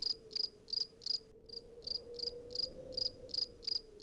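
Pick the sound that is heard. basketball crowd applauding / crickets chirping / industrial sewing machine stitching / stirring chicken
crickets chirping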